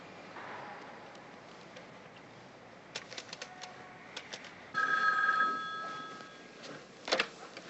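A telephone rings in a quiet room in a TV crime drama, one tonal ringing burst near the middle with a few faint clicks before it and a short ring later, no voices.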